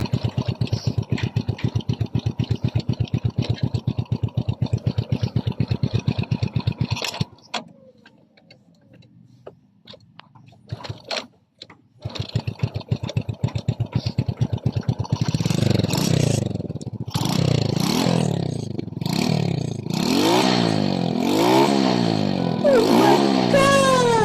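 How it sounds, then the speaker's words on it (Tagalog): A KYMCO Visar 110 motorbike, earlier clogged carburetor cleaned, running loud and close: a steady idle that cuts out, sputters back to life, then climbs into repeated rising revs. "On natin ang kanyang susi at paandarin na natin ang kanyang motor."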